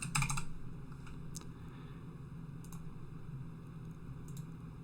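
Quick bursts of typing on a computer keyboard, close and clear, a fast cluster of keystrokes at the start followed by scattered single taps over a low steady hum.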